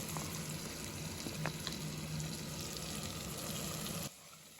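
Ground masala paste with ginger and garlic frying in a pan for a vegetable sagu, a steady close sizzle with faint stirring clicks that cuts off near the end.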